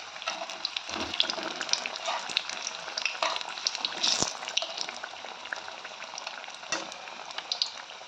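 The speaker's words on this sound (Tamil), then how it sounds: "இப்போ நம்ம எக்கு மசாலா கலக்கி இதில் எண்ணெயில் போட்டுடலாம், பொரிச்செடுக்கலாம்" Egg masala bondas deep fry in hot oil, giving a continuous close bubbling sizzle with a few brief clinks and splashes as they are turned.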